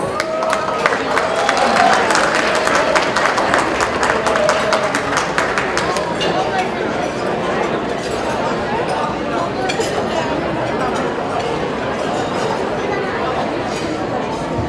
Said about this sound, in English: So if you can please give them a warm round of applause